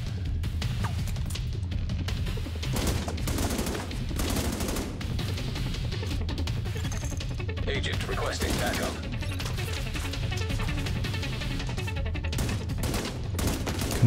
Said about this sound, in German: Genau auf seine Hand schießen.